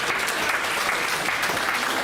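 Steady, full applause from an audience at a poetry and song evening at Villa Gardenia in Ossi, continuous clapping with no gaps over a couple of seconds.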